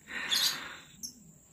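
Lovebirds in a cage give a brief, faint chirp followed by a thin high tweet, heard alone and close.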